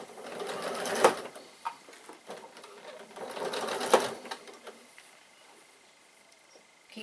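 A sewing machine stitches the side of a piped fabric bag to its back in two short, loud bursts up close, then quieter intermittent stitching and light handling noises follow.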